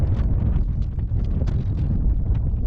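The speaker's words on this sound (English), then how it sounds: "No, it's definitely got windy." Steady low-pitched wind buffeting against a microphone, a continuous loud rumble with gusty fluctuations and no voices.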